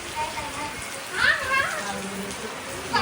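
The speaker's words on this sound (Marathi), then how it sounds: "कसला मोठा पाऊस आलेला आहे खूप जोरात आला" Heavy first rain of the season pours down in a steady, loud hiss amid lightning, with voices talking briefly over the downpour.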